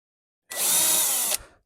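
A power drill driving a screw into a campervan kitchen build, one steady whirring run of nearly a second that starts abruptly and stops cleanly, close and alone.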